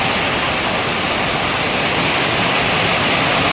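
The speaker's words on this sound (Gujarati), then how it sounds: "ગરમ ગરમ વરસાદ બહુ જોરદાર આવતો છે" Heavy rain pours down steadily at a roadside snack stop in Anaval, a dense continuous hiss with no break or change, close and loud.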